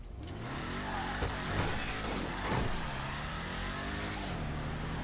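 Imponte Arbiter GT muscle car in GTA Online, its engine roaring steadily as it revs through a wheelie, with a couple of surging pitch swells, loud and close.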